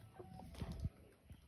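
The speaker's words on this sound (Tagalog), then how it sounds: "Patuka tayo ng ating alagang manok." A few soft, low clucks from chickens nearby, brief and quiet against a faint outdoor background.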